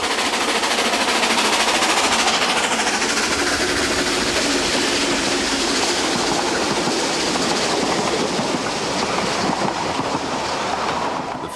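A double-headed Festiniog Railway steam train passing Tanybwlch station, a loud, steady rumble and clatter of wheels filling the whole stretch without voices.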